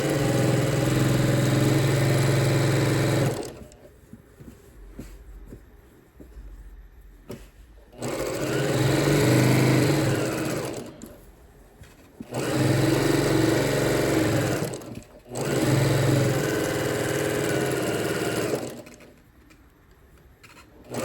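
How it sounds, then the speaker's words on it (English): A sewing machine runs top stitching along fabric for a tote bag made from pre-cut fabrics, in four loud sustained bursts separated by short pauses, with no talking. "go in and put a top stitch on this side"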